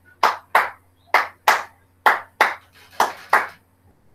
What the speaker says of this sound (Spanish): Sigo aplaudiendo.